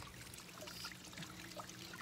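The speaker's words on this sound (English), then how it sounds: "There's a waterfall and stuff." A small waterfall at a farm pond gives a faint, steady rushing trickle, heard from a distance and without any talking.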